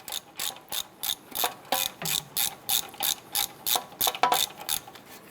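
A ratchet spins lower ball joint bolts out of the front knuckle on a 2008-2012 Honda Accord, giving steady, evenly spaced bursts of fast pawl clicking, close and fairly loud, with no voices.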